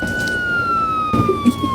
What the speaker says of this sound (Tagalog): Nagulat ako dun sa tunog ng pulis eh